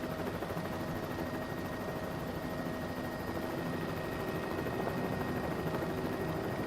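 A helicopter in flight gives a steady, full rotor and engine drone that stays constant and close throughout, with no voices over it.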